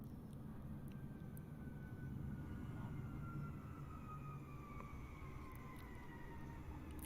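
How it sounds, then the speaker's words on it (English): Big commercial jet coming in at busy Bristol Airport in Microsoft Flight Simulator, a steady distant engine roar with a slowly sliding whine held across the whole stretch, moderately loud and alone. "Big commercial jet with no wheels."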